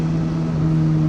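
A 2024 Suzuki GSX-S1000GT motorcycle engine hums steadily while riding, a loud, close, even tone with a strong low drone and no breaks.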